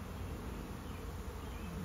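A swarm of honey bees flies around a new hive entrance with a soft, continuous buzzing drone, fairly faint and steady with no voices.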